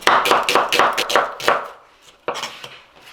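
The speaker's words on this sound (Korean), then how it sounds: "양파는 반으로 가르고 채 썰어주세요." A knife chops a halved onion into thin strips on a cutting board, giving a quick run of sharp, rhythmic knocks up close, then a brief pause before a few more cuts.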